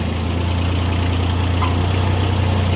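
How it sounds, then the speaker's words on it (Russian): Diesel engine of a Japanese Kubota ZB1402 tractor idling close by, a steady low rumble with a fine, regular knocking pulse and no change in pace. "Слышно, как работает двигатель."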